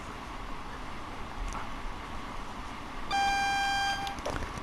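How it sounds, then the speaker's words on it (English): AWS alarm in a train cab in Train Sim World, a sharp steady electronic tone sounding for about a second over the low rumble of the moving train. "Again, that's your AWS alarm for those that aren't familiar."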